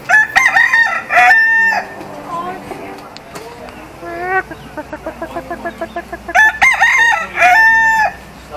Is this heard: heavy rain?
no